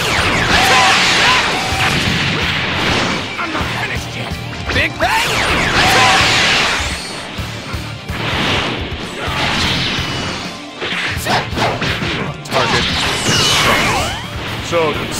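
Big Bang energy attack from Dragon Ball Xenoverse 2 bursts in loud crashing, whooshing impacts, layered with in-game battle effects and voice shouts across a dense, sustained fight sequence.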